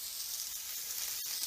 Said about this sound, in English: It's a sizzle. That sound is you getting cooked next week.